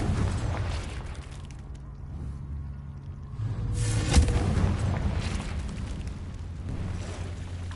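A Confringo fire spell blasts in Hogwarts Legacy, a deep rumbling boom that swells around the midpoint and then rolls on as a sustained low roar inside a cave, moderately loud with no talk.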